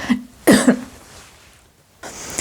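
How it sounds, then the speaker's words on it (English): A single sharp cough sounds close up, then brief quiet before another short burst. "Sorry about that cough."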